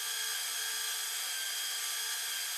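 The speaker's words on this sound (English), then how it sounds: "you attach the adapter to your drill, and you can make your little cone of yarn." A power drill fitted with an adapter spins a cone, winding yarn onto it, giving a steady, loud, continuous whirring hum that holds unchanged throughout with no talking.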